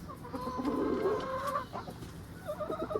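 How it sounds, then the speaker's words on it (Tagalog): Chickens cluck in a backyard farm flock of ten hens and roosters, several birds calling at once at close range, a busy overlapping chatter that swells and then breaks into short separate clucks with no one talking. "As of the moment, we have 10 chickens."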